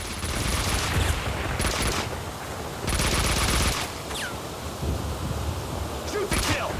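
Dense gunfire from the Max Payne 2 video game: sustained bursts of automatic fire with bright cracks, loud and close, broken by a few brief gaps.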